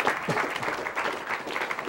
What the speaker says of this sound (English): Why are you clapping at that?